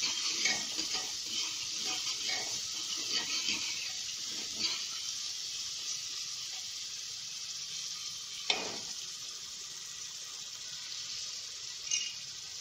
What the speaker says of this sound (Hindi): प्याज हमारे हो चुके हैं, हम इसमें अदरक लहसुन का पेस्ट डाल देंगे। 1 मिनट इसको चलाएंगे हम मीडियम फ्लेम पे।